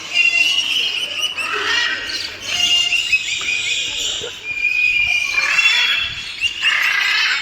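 Free-range birds at Ramoji Film City give a steady stream of chirps and whistled calls, sounding fairly close and continuous and layered over one another, with a person talking at times.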